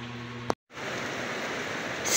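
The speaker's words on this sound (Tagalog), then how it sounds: "So, ayan, ulan na naman. Ulan sa umaga." Steady broadband hiss of morning rain falling outdoors, continuous and fairly close, briefly cut out for a moment near the start and growing slightly louder toward the end.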